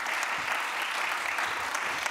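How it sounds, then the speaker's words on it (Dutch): An audience at a Dutch panel event on biodiversity and nature connections claps steadily after speakers are introduced, a moderately loud, continuous round of applause with no talking over it. "Grote applaus."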